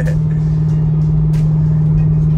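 Chevrolet Corvette C6 V8 engine cruising, a steady loud low drone with a strong constant hum heard from inside the car, with faint scattered background sounds.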